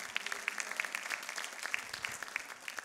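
A church congregation claps hands in praise during a sermon, a quick steady stream of sharp claps from many people, fairly close and moderately loud.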